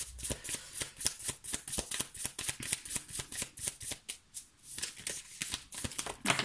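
Tarot cards shuffled by hand in a rapid, steady series of crisp riffling flicks, close and fairly quiet, with a brief pause partway through.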